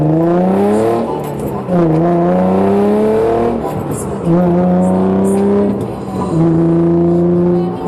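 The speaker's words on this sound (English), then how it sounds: "This exhaust has absolutely no drone at all." An Infiniti G35 fitted with a Motordyne exhaust revs repeatedly while driving, its engine note climbing and falling in several loud, close pulls with brief dips between them.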